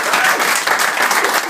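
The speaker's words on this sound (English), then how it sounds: "Give him a big round of applause." Dense audience applause fills the space steadily from start to finish, a broad wash of many hands clapping at once with a faint voice or two mixed in.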